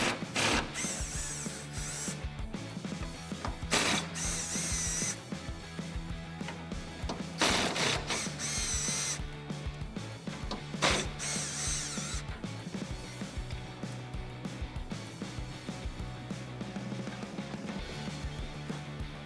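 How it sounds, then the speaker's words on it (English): An impact gun with a 13mm socket rattles out Jeep Wrangler tailgate hinge bolts in several short, sharp bursts separated by pauses, close and fairly quiet overall. "We're gonna use a 13mm on our impact gun."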